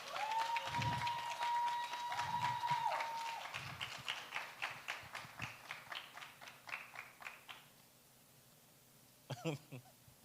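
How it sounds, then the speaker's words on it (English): An audience applauds at a climate change youth ambassadors handover ceremony. Dense clapping starts over a held tone and a few low thumps, then thins into scattered claps and fades, with a brief burst of rattling near the end. "So please give them a round of applause."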